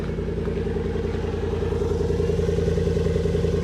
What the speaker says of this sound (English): Here, listen to the exhaust.